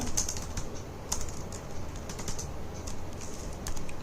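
Keys clatter on a computer keyboard as C program code is typed, a quick irregular run of close, crisp clicks over a faint room hiss, with no voice.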